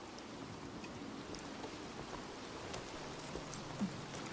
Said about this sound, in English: it's pissing rain again